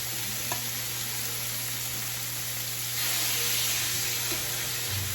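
Steady, loud sizzling of chicken frying in a hot pan, a continuous hiss that swells louder partway through, close by with a low background hum.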